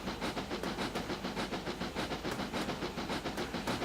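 A steam locomotive on a Welsh narrow gauge railway chuffs in a steady rapid rhythm, with hissing steam and clattering carriages throughout at moderate distance.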